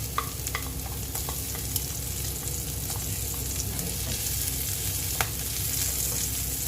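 Chopped garlic sizzles steadily in hot frying oil for Filipino-style ginisang ampalaya with eggs, with a continuous crackle and occasional sharp pops and small stirring clicks. It is close and loud, with no talking.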